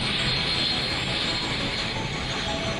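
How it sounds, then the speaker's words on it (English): Steady, loud drone of a Cessna 172 light single-engine propeller aircraft, a continuous broadband roar running unbroken throughout with no talk over it. "Cessna 172."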